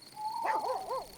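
Cartoon dog barking at night near a village, a short faint run of three or four yelping barks heard alone over a quiet hum.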